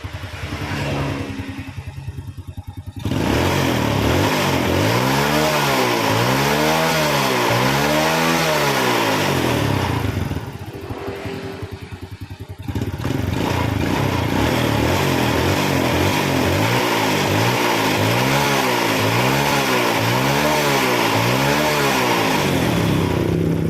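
A Honda Supra X 100cc motorcycle engine after a major service revs loudly and close, rising and falling in repeated throttle blips in two bursts, with a short idle between them and no talking.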